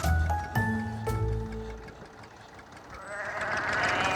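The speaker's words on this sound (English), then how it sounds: "So you have sheep here." Sheep bleating on a working farm that also keeps pigs, several harmonic calls in the first second or so, fairly close, over a steady vehicle engine rumble, with broadband noise rising toward the end.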